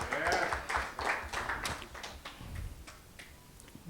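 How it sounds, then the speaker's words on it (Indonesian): A church congregation gives faint, somewhat distant applause, heard as a loose string of sharp, separate claps that thin out and fade over several seconds. "Kita berikan tepuk tangan deh."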